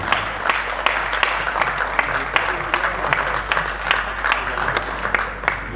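An audience at a mushaira poetry gathering applauds to welcome the event's president, sustained clapping from a crowd with some sharp individual claps standing out, steady over a low hum.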